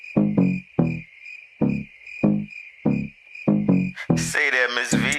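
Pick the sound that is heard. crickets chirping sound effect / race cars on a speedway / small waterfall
crickets chirping sound effect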